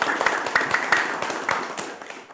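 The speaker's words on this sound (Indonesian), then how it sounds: "Boleh tepuk tangan dulu dong biar lebih semangat." An audience at a badminton club event claps briskly, with distinct individual claps standing out in an uneven rhythm, fairly close and gradually thinning out.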